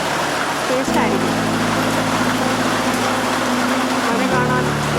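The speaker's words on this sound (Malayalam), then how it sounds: "ഭയങ്കരമായിട്ട് മഴയാണ്. എപ്പോഴും മഴയാണ്." Heavy rain falls in a continuous loud, broadband wash close by, with a steady low droning hum running beneath it for most of the stretch.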